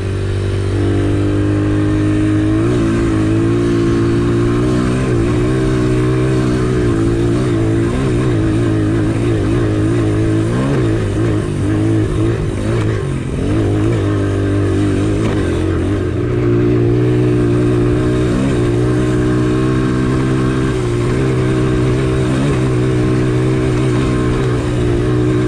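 A motorcycle engine started with one kick and no choke, running loud and close, with continuous throaty revving that rises and falls throughout, no talking.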